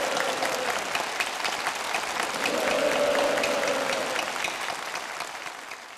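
Enthusiastic applause from the full assembly of participants at a festival closing ceremony, a dense, steady wash of clapping that holds for the whole stretch without talk.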